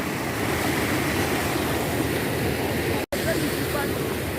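Rushing water at Bo Waterfall in Sierra Leone: a steady, loud, broadband roar with no letup, near and continuous apart from a momentary dropout.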